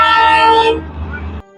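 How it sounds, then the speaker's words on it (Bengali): Horn of the Darjeeling Himalayan Railway toy train at a hill station, a loud, near, sustained tonal blast that cuts off and leaves a lower rumble fading over about a second. "এ হিমালয় রেল স্টেশনের ঐতিহ্য টয় ট্রেন।"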